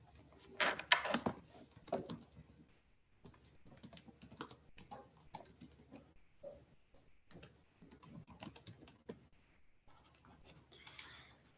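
Computer keyboard typing in rapid irregular bursts across the whole stretch, close and fairly loud, with short pauses between runs of keystrokes while a chat link is posted during an online community workshop.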